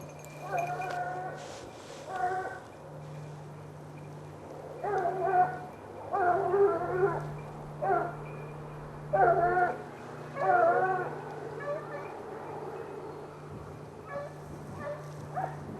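Hunting dogs baying and howling during a wild boar hunt, several drawn-out calls rising and falling in clustered bursts at moderate distance over a low steady hum and outdoor background.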